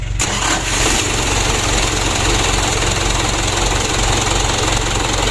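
A car engine with an unserviced starter motor, which had been hard to start, catches almost immediately and settles into a loud, steady, close-up running rumble.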